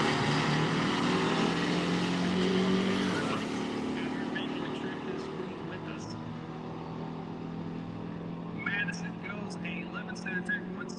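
A Galaxy drag car with a big turbo and six-shift transmission launches and accelerates down the strip at a Midwest drag racing event. The loud engine roar fades gradually into distant track ambience, with a voice speaking over it.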